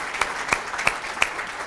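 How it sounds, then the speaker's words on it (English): A conference audience keeps up even applause, a close wash of clapping with four louder claps spaced at a steady beat. "Can we give one more round of applause for Dr."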